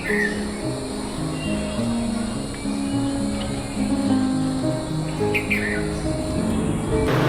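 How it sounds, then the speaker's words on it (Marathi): A bird sings from a light pole outdoors, its chirps faint and intermittent over a steady background of traffic-like hum and broadband noise. "मगाचपासून एक पक्षी, त्या पक्षीचा एवढा छान असा आवाज येतोय ना."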